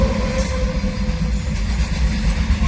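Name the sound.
train passing at Jetpur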